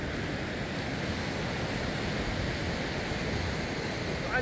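Sea waves wash against eroding sand dunes on the Irish coast, a constant, close, hissing surf roar mixed with wind buffeting the microphone.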